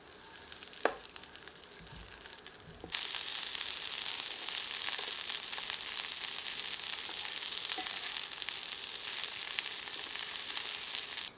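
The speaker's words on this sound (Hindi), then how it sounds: "इस तेल में कटे हुए ककोड़ों को भूनते हैं।" Chopped spiny gourd (kakoda) frying in hot oil in a pan, a soft crackle jumping into a loud, steady sizzle after a few seconds and holding close and even to the end.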